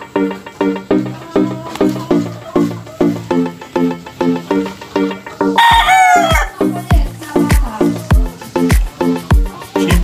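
Gamecock roosters crow and cluck. One loud, clear crow rises near the middle, over steady, rhythmic pulsing sounds that run through the whole stretch.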